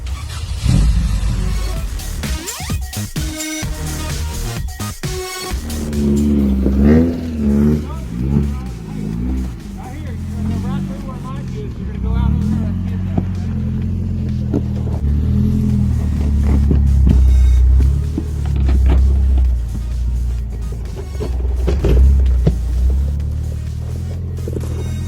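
A car engine, the Stomper, revs up and down in low rumbling waves, fairly loud and close, while people talk and cheer over it.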